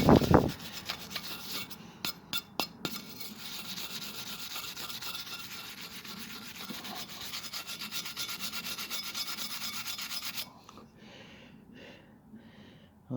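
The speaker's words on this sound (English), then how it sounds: "Just give it a good wire brush." Steady wire-brush scrubbing of crud from a Montgomery Ward snowblower cylinder head, a continuous close rasping scrape with a few sharp strokes at the start, lasting about ten seconds before dropping to quiet.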